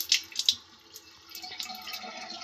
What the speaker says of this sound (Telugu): పప్పును నీట్గా 2-3 సార్లు ఈ పౌడర్ అంతా వెళ్ళిపోయేదాకా నీట్గా కడుక్కోవాలండి